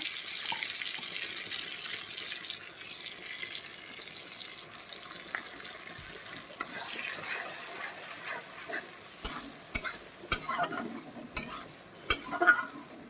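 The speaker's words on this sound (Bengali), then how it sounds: "যতক্ষণ তেল না ছেড়ে দেবে ভালো করে কষানো হবে ততক্ষণ আমি কষাতে থাকবো" Catla fish curry masala being stir-fried in oil in a pan, with a steady low sizzle and scraping spoon strokes that grow louder and sharper toward the end, no talking.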